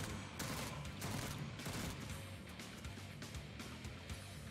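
Enemies in Jupiter Hell gunning each other down in a crowded spawn area, a rapid crackling fusillade of sci-fi gunfire with sharp repeated bursts, fairly faint and steady throughout.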